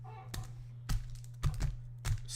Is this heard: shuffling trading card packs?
yes